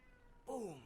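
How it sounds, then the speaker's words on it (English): A cat meows once outdoors, a single clear, rising-then-falling cry that starts abruptly and rings out loud and close against a quiet background. "You can hear that cat outside"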